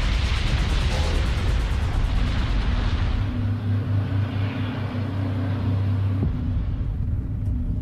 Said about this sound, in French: Les contrôleurs aériens entendent les explosions